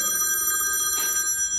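A cell phone rings from inside a pumpkin during a magic act on an outdoor fright-fest stage, a bright electronic tone pulsing steadily and clearly for a brief moment.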